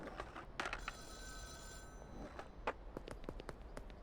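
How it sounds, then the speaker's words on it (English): A phone rings in the video game Schedule 1, faint repeated electronic ring tones with a few soft footsteps and clicks underneath, no talk. "What's the phone ringing?"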